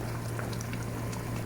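Chicken simmers in a pot of kabsa, a steady, close bubbling and rolling boil with a low hum beneath, continuous and even throughout, no talking.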